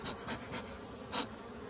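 Honeybees buzz steadily around an opened hive during an inspection, a dense close hum with slight swells.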